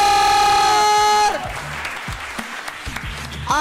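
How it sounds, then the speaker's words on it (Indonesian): Audience applause at the close of a stand-up comedy roast grand finale, a loud musical tone fading out first, then scattered clapping and crowd noise of moderate level continuing with a few sharper bursts. "Beri tepuk tangan yang meriah untuk juara 1"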